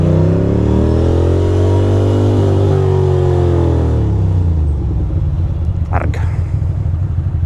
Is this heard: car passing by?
yes